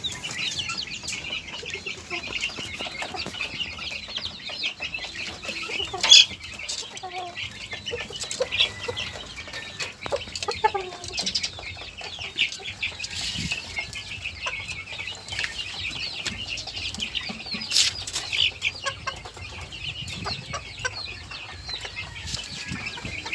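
Chickens cluck and stir in a small backyard coop housing Sebright bantams, with soft scattered calls, a brief wing flap and rustling over a steady faint outdoor background.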